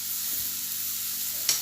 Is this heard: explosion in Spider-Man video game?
no